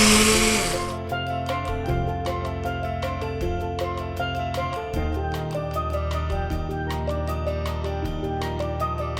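A blender pulses and chops vegetables for gazpacho, a steady whirring motor with a loud burst at the start, then repeated rhythmic chopping knocks close up, with no voices.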